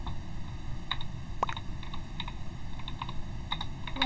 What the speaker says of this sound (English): I'm typing so fast, I can't even.